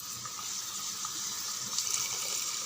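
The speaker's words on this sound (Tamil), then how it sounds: "பருப்பு தண்ணி இருக்கு இல்லையா, அதையும் சேர்த்துடலாம்" Lentil cooking water pours into a pot holding mashed carrot, giving a continuous soft splashing trickle, fairly faint and close, with no voices.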